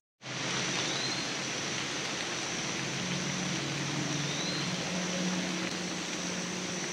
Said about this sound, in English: So it just started raining again.